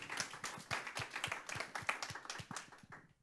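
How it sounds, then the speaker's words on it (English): Clapping from a modest audience at a bookstore author event, a quick burst of individual hand claps with no voices, quiet and slightly distant before tapering off. "Can we have a round of applause for the Ann Arbor District Library"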